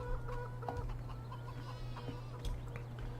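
Chickens in the video game Farming Simulator 17 cluck repeatedly in short bursts over a steady low electronic hum, with no talking.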